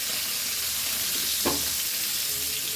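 Mackerel cafreal masala being stirred in a pan for a traditional Goan dish, a steady close sizzle of frying with one brief scrape of the spoon midway and no talking.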